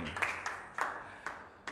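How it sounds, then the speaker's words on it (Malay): Faint, sparse applause for an event MC, a handful of distinct claps spaced out over a quiet background. "Satu tepukan gemuruh untuk MC kita pada hari ini."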